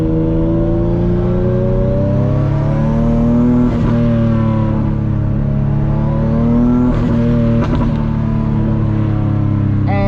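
A loud turbocharged Nissan 350Z engine pulls hard and steady, its pitch climbing through the gears with a turbo whine rising over the droning exhaust; no voices.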